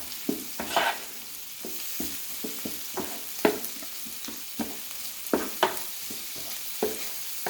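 A spatula scrapes and pushes corned beef, sausage and omelette ingredients around a hot frying pan, with repeated irregular scraping knocks over a low, constant sizzle.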